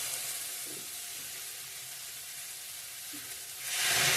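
Spice paste sizzles steadily in a pan for a soft, even hiss with faint stirring, swelling louder near the end as the paste is worked; no one speaks.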